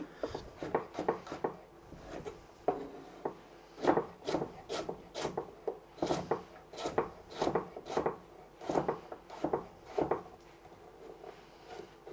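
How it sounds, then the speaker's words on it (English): A knife roughly chops fibrous vegetables on a wooden board for a food processor, giving a steady run of close, crisp thuds and scraping cuts that continue without pause for about twelve seconds. "I'll just give these a rough chop just to make it a little easier on the food processor."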